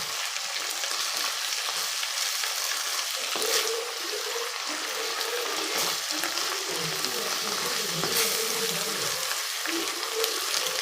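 Drumstick leaves cook down in a pan with a little added water, giving a continuous close hiss and bubbling sizzle with faint stirring movements throughout, steady and fairly loud, no talking.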